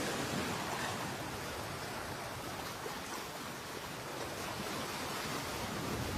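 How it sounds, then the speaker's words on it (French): Ocean swell breaks on the coral ring of an atoll in French Polynesia, a steady distant roar of surf rolling without pause and fairly quiet overall. "Ces déferlantes sont provoquées par la houle du large qui vient se briser sur l'anneau corallien affleurant la surface"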